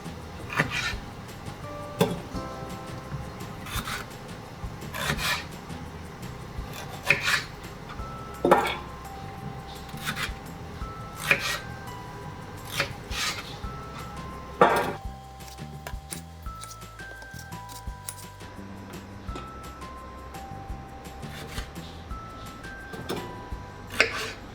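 Ripe garden tomatoes are chopped into rough quarters with a tomato knife on a cutting board, giving repeated sharp taps and knocks at irregular intervals, close and fairly crisp, with faint kitchen clinks between the cuts.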